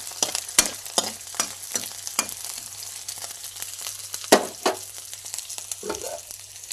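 Green chillies, onions, curry leaves and peanuts frying in a pan for upma, with a steady faint sizzle broken by repeated sharp clinks and scrapes of stirring, close by and with no talk.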